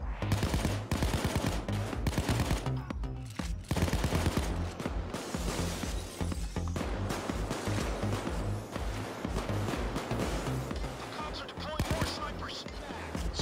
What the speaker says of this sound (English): I don't think they like that, they just started shooting me.